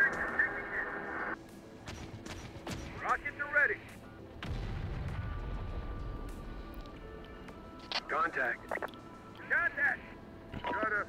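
Gunfire and artillery from the video game Terminator Dark Fate Defiance, with scattered sharp shots and heavier booms in a busy battle mix, interleaved with radio-style voices and game chatter.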